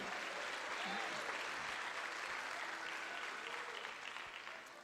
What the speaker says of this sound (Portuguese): os que podem tomar seu assento aplaudindo a Jesus, porque Ele é bom